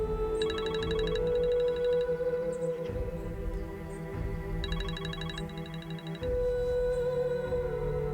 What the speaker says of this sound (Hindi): मैं अब फोन उठाकर तुमसे क्या बात करूंगा रेहान?